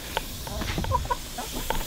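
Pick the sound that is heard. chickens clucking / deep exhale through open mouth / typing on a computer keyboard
chickens clucking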